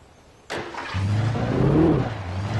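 An old Chevy car in Alan Wake cranks over with a sharp start at half a second, then settles into a steady engine drone that swells into a rising rev before easing back.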